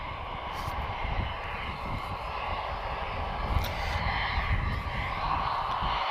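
A Vueling Airbus A321-231 departs with a steady, broad jet engine roar that holds at fairly even loudness throughout, heard from a distance at the airport.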